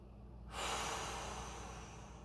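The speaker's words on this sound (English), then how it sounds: "find those deep belly breaths. So that diaphragmatic breathing. Inhale deeply. Exhale fully." Deep diaphragmatic belly breath during a pelvic floor release exercise, heard as a quiet, close, airy exhale rising suddenly and holding steady as a soft hiss, with no talking.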